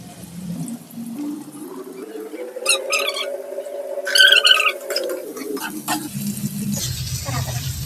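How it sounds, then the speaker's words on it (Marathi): Sliced onion dropped into hot oil for a pumpkin mutton biryani, a constant frying hiss with occasional stirring clinks and squeaks, fairly close and without talk. "आता जो हा राहिलेला कांदा आहे तो टाकून घेऊयात तेलात"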